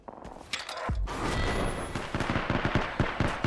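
Apex Legends gameplay gunfire: rapid, sharp shots ring out in quick bursts, sometimes in steady repeated runs like automatic fire, loud and close with a brief low boom early on.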